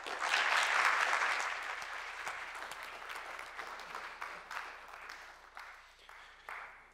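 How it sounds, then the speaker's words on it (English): Audience applause for a panel speaker at an academic innovation panel on sustainable development, dense clapping that is loudest at the start and then tapers gradually over several seconds, with no talk on top. "it's always nice when people applaud before you actually say anything"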